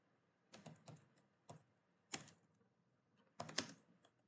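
Someone types on a computer keyboard in short bursts of quick, close key clicks separated by brief pauses, in a quiet room.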